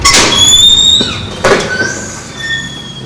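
A school entrance door opens with a sharp metallic squeal and creak, a high scraping tone that rises and fades, followed by a second clunk and a softer squeak as it swings, close by with no talking.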